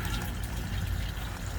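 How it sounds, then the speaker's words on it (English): Dirty water flushing out of a pond filter through a hose, a dense continuous gush and splash of rushing liquid, steady and close, with no voices. "it pushes all the dirty water out of the filter"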